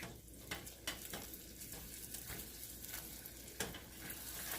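Eight tablespoons of butter being stirred into hot caramel in a pan, a steady frying sizzle with soft scraping strokes and a few light clinks of the utensil against the pan.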